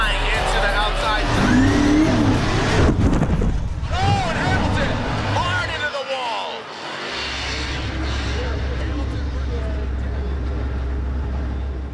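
A Formula Drift race car revs hard under continuous engine roar and tire noise, loud and close throughout, with a brief drop around the middle, while a person talks over it.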